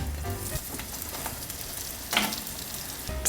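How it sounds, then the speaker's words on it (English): Food sizzles steadily in a hot pan, a continuous crackling hiss with a couple of brief louder bursts of spatter and pan clatter. "hear that sizzle? That's what you want to hear."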